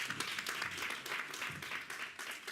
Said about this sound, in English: With a round of applause, please, let's put our hands together